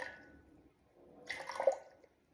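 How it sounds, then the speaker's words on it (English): Water poured into a jar sitting on a kitchen scale, a soft trickle and splash building toward the end of a brief quiet moment. "I'm going to pour in 125 grams of water"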